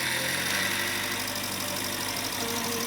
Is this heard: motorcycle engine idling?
yes